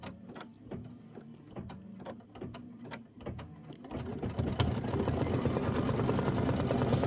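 An embroidery machine stitches jack-o-lantern pumpkin outlines in rapid, regular mechanical ticks that build into a louder, denser whirring stitch rhythm, close up and alone.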